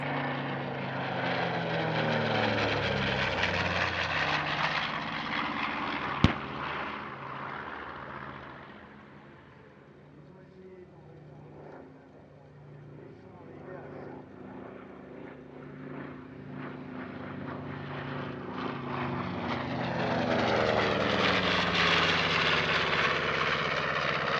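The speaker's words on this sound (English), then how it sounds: "One of only two flying B-25s outside North America, this one comes from the Flying Bulls" A Flying Bulls North American B-25 warbird bomber with twin piston radial engines passes at a French airshow, a loud propeller drone that fades in the middle and swells again as it comes back close.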